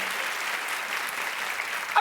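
A studio audience at a television talk show claps in a steady, dense wash of applause that fills the space and continues without a break, ending with a brief sharper sound at the close.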